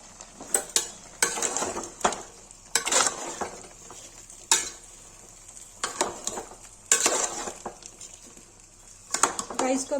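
Mutton and onions fry in a pan for a mutton taula masala gravy, with a soft steady sizzle and repeated scraping, clinking stirs of a metal spoon against the pan, loud and close, with no talk.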